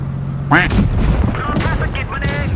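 Tank cannon fire from World of Tanks Blitz, played in a Type 64 light tank, comes as a sharp boom followed by further gunfire and effects, loud and close, with voice sounds mixed over it.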